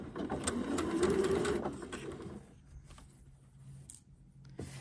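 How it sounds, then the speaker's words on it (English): A sewing machine stitches quilt binding strips, a dense mechanical whir that runs steadily, then eases to quieter intermittent stitching and soft handling clicks, with no voices. "And just center that line on the foot and sew."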